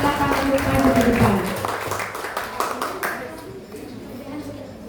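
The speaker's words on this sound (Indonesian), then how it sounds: "Kita tepuk tangan yang meriah kepada Annabel" Applause at a primary school graduation and farewell ceremony: a burst of many hands clapping that swells then thins into scattered claps, partly under a speaker's amplified voice.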